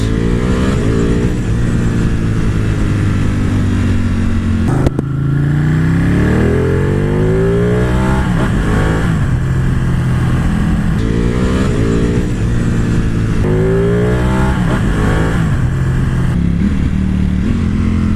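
Ducati Panigale motorcycle engine revving hard and close, rising and falling through repeated climbs with quick auto-blipper downshift blips, loud and steady under no talk.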